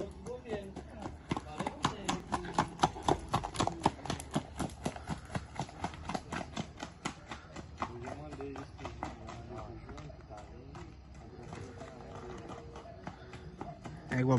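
A mare's hooves clip-clop in a steady, quick rhythm on hard ground in Minas Gerais, Brazil, with voices talking over the hoofbeats throughout.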